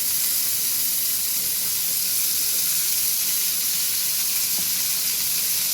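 Mustard oil sizzling in a pan, a dense, even hiss of hot oil held at close range with no talk and one faint tap near the end.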